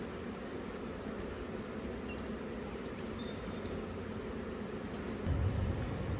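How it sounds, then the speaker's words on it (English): Honey bees from a collected swarm hum around a backyard beehive in a steady, dense drone that swells slightly louder near the end. No voices are heard. "They're lovely bees, Kerry."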